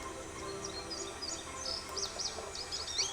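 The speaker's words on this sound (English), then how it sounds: "Oh, you got the goldfinch song, so it should be somewhere nearby." Goldfinch song in the forest of the Nancy Drew game Ghost Dogs of Moon Lake: faint, quick high twittering notes that repeat over a soft steady background hiss.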